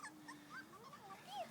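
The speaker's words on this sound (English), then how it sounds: "That puppy wants you, Mandy." A puppy whimpers and yips outdoors in short, high, wavering cries, fairly close and soft, with faint human voices behind.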